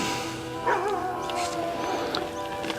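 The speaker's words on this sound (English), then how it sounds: "Chloe, the dog, is saying we're a bit slow and a bit behind schedule." Chloe, a dog, gives a few short whining yips and vocal bursts close by, over a low steady background hum, with no one talking.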